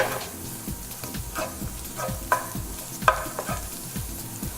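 Garlic fries gently in a pan with a quiet, steady sizzle, while regular stirring strokes set up a low rhythmic scrape and an occasional sharper tick of the utensil.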